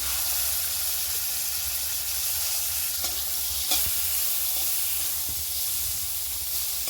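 Bay leaf, cashews and raisins sizzle steadily in butter in a pan for rice vermicelli payesh, a continuous frying hiss with a few soft stirring clicks and no talk.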